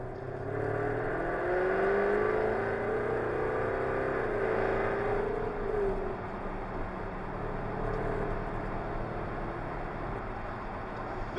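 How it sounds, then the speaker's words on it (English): A 2014 Jaguar F-Type V8 S engine rumbles steadily, its pitch rising and falling as it revs, with a throaty exhaust tone close by. "I hope you can hear that exhaust"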